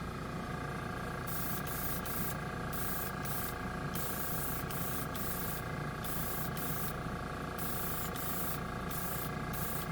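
An airbrush sprays Testors Extreme Lacquer paint onto a model car: a steady close hiss with a constant compressor drone underneath, the high spray noise cutting in and out in short bursts.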